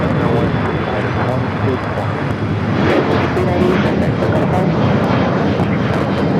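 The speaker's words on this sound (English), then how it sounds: "for the departing heavy Airbus" A heavy Airbus jet departs LAX with a loud, continuous engine roar, and a radio voice talks over it.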